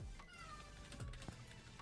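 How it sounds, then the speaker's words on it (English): A cat meowing outdoors, faint and distant, with a few short calls heard alone in a quiet room. "I hear a cat."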